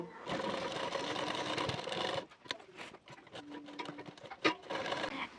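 A close sewing machine stitches the shoulder seam of a ready-made round-neck ruffled nightie, whirring steadily for about two seconds, then running in short stop-start bursts with brief pauses.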